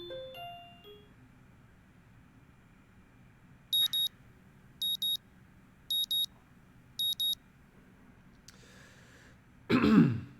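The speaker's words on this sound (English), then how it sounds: "The sound of my alarm brings me out of a dream" An electronic alarm clock in the video game Katawa Shoujo beeps in four evenly spaced pairs of high, clean tones over quiet background hum, followed by a burst of rustling noise.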